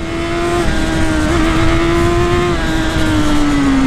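A new Honda CB1000 motorcycle engine in rain riding mode holds a loud, sustained high-revving drone close to the microphone, its pitch dipping slightly near the end, with no talking.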